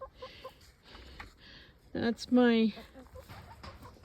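Farm chickens cluck in a few short bursts, with one louder, rising squawk near the middle and someone speaking briefly over them.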